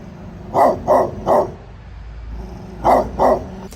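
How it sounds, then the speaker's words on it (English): An angry dog in a dense Arlington neighborhood barks in two loud bursts, three sharp barks then two more after a brief pause, close by. "as well as this angry dog"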